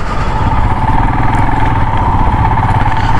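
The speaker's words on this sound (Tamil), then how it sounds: "1970s புல்லட் வந்து டுப்பு டுப்பு டுப்புன்னு" A 1970s Royal Enfield Bullet motorcycle engine thumps steadily and loudly close by during an offroad group ride near Ganalu Falls outside Bangalore, a continuous low throbbing beat with no talk over it.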